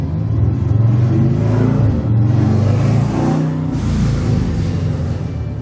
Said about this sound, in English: There's a motorcycle going outside my house if you can hear it.